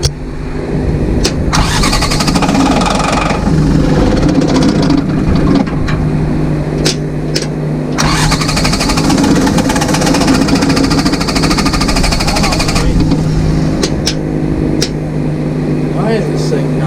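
A New Holland LS170 skid steer's engine cranks steadily without catching, a loud, continuous churning drone from up close over roughly seventeen seconds, with a few brief interruptions.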